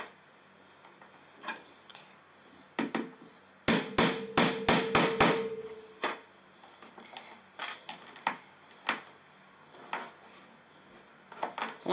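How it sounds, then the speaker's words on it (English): A Gerber Gator combo axe hatchet strikes leather snaps over a table leg. Sharp hammer blows land one after another, with a rapid run of about eight close, loud strikes in the middle and scattered single taps before and after. "I'm actually going to use the hatchet to hammer these things."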